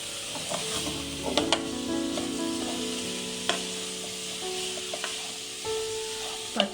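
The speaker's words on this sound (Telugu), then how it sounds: "పచ్చివాసన పోయేంత వరకు బాగా ఫ్రై చేసుకోవాలి." Carrots for halwa fry in a pan over medium flame, a continuous close sizzle broken by scraping stirs and occasional knocks of the spoon against the pan.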